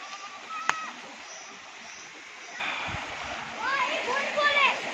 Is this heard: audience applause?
no